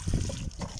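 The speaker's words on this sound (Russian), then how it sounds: "вот одно ведро я уже набрал и проливаю вот так вот водой" A bucket of water poured onto garden soil over a layer of fallen pine needles, a brief close splashing gush with low gurgle, no talking.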